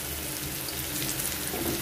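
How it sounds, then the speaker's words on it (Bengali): Potatoes frying in a wok for a potato mash, giving a steady, close hiss and crackle of hot oil that runs evenly throughout with no talk. "এখন এই আলুগুলো আমি দিয়ে দেব কড়াইতে একটু ভাজা ভাজা করব"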